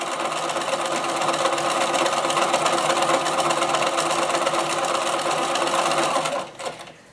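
Sewing machine running steadily as it stitches around the edge of an old towel being made into a dishcloth, a continuous loud mechanical whir with rapid needle rhythm that stops abruptly near the end.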